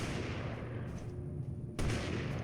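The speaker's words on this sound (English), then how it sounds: "Oh, that's a grenade." A grenade blows up in the video game Totally Accurate Battlegrounds: a dense, rumbling burst of noise rolls on and then swells sharply again near the end, loud, with no voices.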